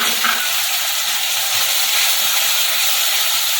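Ginger, garlic and green chili paste frying in a pan after the onions have browned, a steady loud sizzle with no pauses and no voices.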